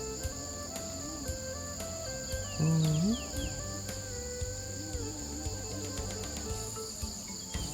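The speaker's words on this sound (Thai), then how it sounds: "นี่เสียงป่าพี่น้อง" Morning forest ambience at a rural garden homestead, crickets and insects chirping steadily in a high continuous drone, with faint scattered bird calls and no talk.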